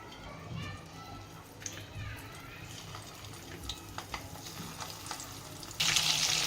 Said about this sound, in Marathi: चला आता मी तेलात सोडत आहे